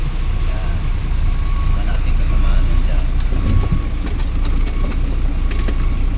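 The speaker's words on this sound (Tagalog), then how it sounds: "At ito yung mga kasama natin mga truck na ngayon ay bibiyahe din" Trucks idling and moving at a mine site, a loud, steady low engine rumble with a brief high air-brake hiss and scattered knocks, while a person talks over it.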